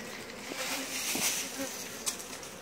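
Honey bees hum in a steady, dense buzz as worker bees ball their queen, the swarm drone continuous and close with a few brief faint knocks, no voices.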